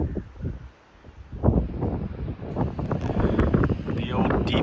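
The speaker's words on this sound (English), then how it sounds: "pardon the wind" Wind buffeting a microphone outdoors along an old railroad bed, low rumbling gusts that swell and drop while a person talks over them.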